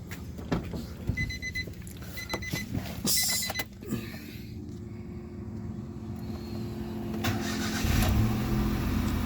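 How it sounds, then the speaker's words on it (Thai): A car with an engine that will not rev cranks briefly, then catches and settles into a steady idle, with a few electronic beeps just before the start. "เดี๋ยวเราเราลองมาสตาร์ทดูกันนะว่า เครื่องยนต์จะเร่งได้หรือเปล่าครับผม"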